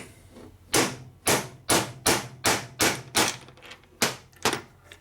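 A steel hammer knocks a pressed-in part out of a 1980 Harley-Davidson Sportster 74ci stroker engine during a cylinder and head rebuild, giving about eight loud, sharp metallic strikes in an uneven rhythm, close by with no talking.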